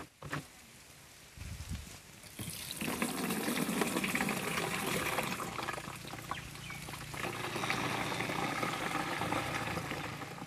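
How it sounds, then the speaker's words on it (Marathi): Liquid herbicide mixture poured into a sprayer pump tank on a farm, a steady loud splashing gush that runs continuously for several seconds after a quieter start. "आता ह्या पंपमध्ये आपण ओतून घेऊया."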